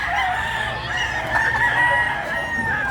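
Native chickens on a farm, with a rooster crowing loudly and close, long drawn-out calls that repeat over steady clucking background noise, no one speaking.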